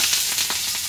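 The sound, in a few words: chili peppers frying in a pan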